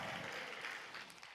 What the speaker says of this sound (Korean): 하나님께 감사와 영광의 박수 올리시기 바랍니다